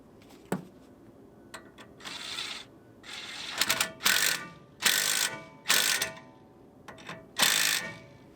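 A ratchet tightens a sway bar link on a Ford Explorer Limited AWD front end. Several close bursts of rapid pawl clicking come in uneven spurts, each lasting about half a second, with small knocks between them.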